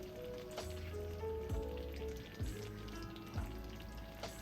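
Flour and gravy for smothered chicken cook in a pan with a steady, close sizzle, broken by a few louder scraping stirs.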